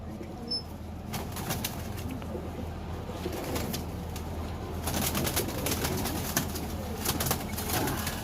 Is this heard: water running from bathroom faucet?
no